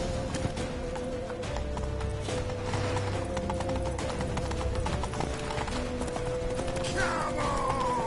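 Galloping horse hooves in The Witcher 3, a steady fast clip-clop rhythm under continuous loud background noise and tones, with a rising whine near the end.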